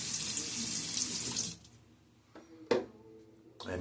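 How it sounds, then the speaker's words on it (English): Water runs from a faucet into a sink and is splashed onto the face during a wet shave, a steady close hiss that stops, followed by a few brief wet splashes and drips. "Splash my face a little bit"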